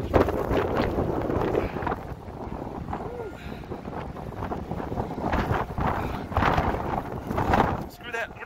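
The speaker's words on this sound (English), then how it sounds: "So that wind is going." Strong blizzard wind in downtown Denver roars and buffets the microphone in steady gusts, loud and close throughout with no talk.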